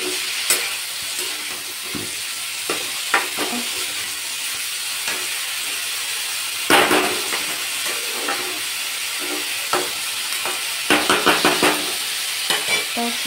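Potatoes frying in a pan and being stirred slowly, a steady high hiss and sizzle with scattered scraping clicks and a few louder clattering bursts of utensil against pan, close and alone without talk.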